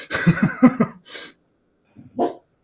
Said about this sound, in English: The dog was making it hard to focus.